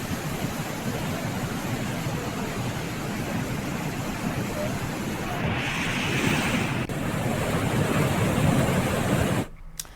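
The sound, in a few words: Ganga river flowing in spate at Gangotri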